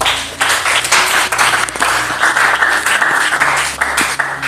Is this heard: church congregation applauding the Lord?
yes